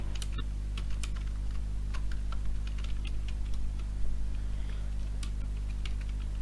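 Typing on a computer keyboard, light scattered key clicks in an uneven rhythm over a strong constant low hum.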